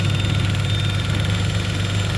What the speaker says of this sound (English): That noise is our Dodge next to us.